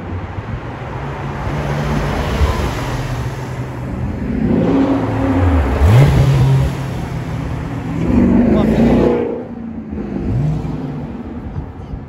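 A car engine revs hard and accelerates with rising, roaring pitch, surging twice before easing off, at a carspotting gathering in Paris, with crowd chatter and traffic noise around it.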